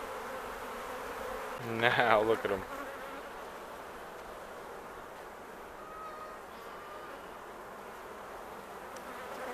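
Honey bees from a single upset hive buzz around during a honey harvest, a steady insect hum with a brief louder burst near the start as a voice speaks.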